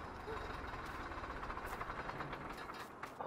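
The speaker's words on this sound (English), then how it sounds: "Oh, I love the sound of that tractor." Tractor engine in Farming Simulator 19 on PS4: a steady, fairly quiet rumbling drone with a rapid pulsing chug, running continuously and alone.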